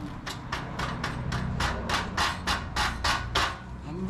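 Sharp metallic hammer strikes on an Indian Sport Chief motorcycle's slip-on exhaust pipe during installation, about a dozen in a steady rhythm, close and loud over a low background rumble.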